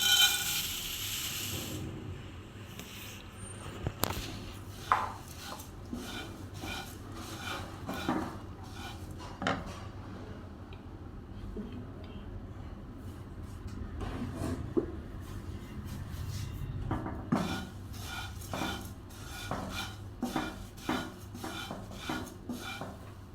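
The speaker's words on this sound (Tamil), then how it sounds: "அவளை வந்து நல்லா கருவிடாமல் வறுத்துக்கணும்ப்பா" Flattened rice (poha) being dry-roasted in a pan over low heat: repeated dry scraping and rustling strokes of a spoon through the flakes, with scattered clicks against the metal pan, close and moderately quiet.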